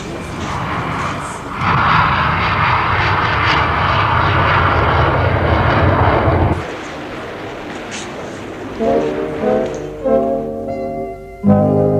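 An airplane's engines roar loudly for several seconds, then the noise thins out and other steady tones take over.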